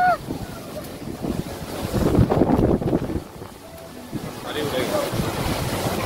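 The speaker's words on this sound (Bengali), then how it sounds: "প্রচুর ঝড় শুরু হয়ে গেছে।" A strong storm wind gusts and roars against the microphone, swelling loud in the middle and easing off, with faint rustling and brief voices underneath.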